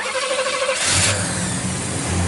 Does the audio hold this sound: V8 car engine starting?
yes